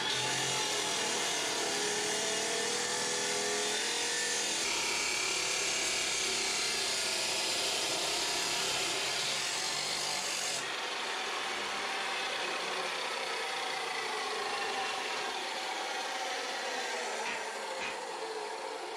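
Metal stock is cut on a workshop machine fed by a homemade roller feeder, producing a loud, continuous grinding saw noise that runs steadily for the whole stretch, shifting tone partway through, with no talk.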